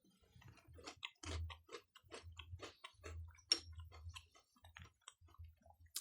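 Crunchy Oreo O's cereal with milk chewed close up, several spoonfuls of four or five pieces, giving dense irregular crackling bites and clicks in bursts over about six seconds, alone without talk.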